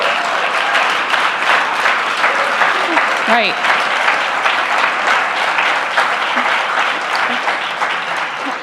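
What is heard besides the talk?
convention audience applauding the staff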